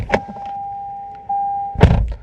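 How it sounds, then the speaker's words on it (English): An automatic car's door swings shut with one loud, heavy clunk near the end, after a brief knock and a steady chime tone from inside the cabin. "Hopefully you heard a nice loud clunk. So that means my door is shut."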